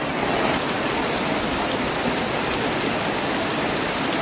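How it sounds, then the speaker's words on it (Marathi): Heavy monsoon rain falls on an outdoor Ganesh festival shopping market in Kankavli, Sindhudurg, in the Konkan, a dense, unbroken hiss of rain drumming on surfaces, loud and steady with no voices. "काय पावसात गोंधळ घातलं ना आज काय?"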